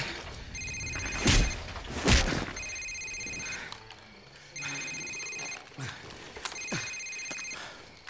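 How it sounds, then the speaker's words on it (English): A cell phone ringing in Call of Duty 4 - repeated electronic ring bursts in a steady pattern, four rings, with heavy thuds and a voice under the early rings. "Sir, it's his cell phone."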